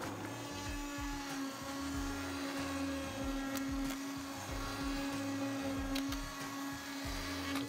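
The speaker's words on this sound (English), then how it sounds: "I'm gonna take my hand blender and blend this really good." A hand blender whirs through leek and potato soup with a steady, loud motor whine held the whole time, its tone wavering slightly as the blades churn the thick mixture.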